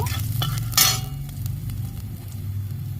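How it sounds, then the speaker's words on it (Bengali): Mustard seeds, cumin and ginger fry in hot oil with a close, constant crackling sizzle and stirring, one brief louder hiss bursting up near the start, no voices. "গোটা সর্ষে ফোড়ন দিয়ে দিচ্ছি জিরে ফোড়ন দিয়ে দিচ্ছি আদা দিয়ে দিচ্ছি সব একসাথে আমি একটু ভেজে নেব"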